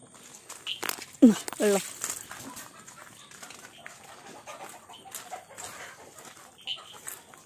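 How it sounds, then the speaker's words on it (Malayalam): Chickens squabbling nearby, with sharp clucks and squawks in a brief burst, then quieter rustling and soft movement, with a person talking. "ഏതാ കോഴികളെ വഴക്കുണ്ടാക്കണേ?"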